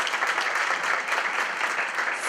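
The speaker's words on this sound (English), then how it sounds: "So let's just give her a round of applause." A round of applause from an audience at a community transitions symposium, dense and even throughout with no talking.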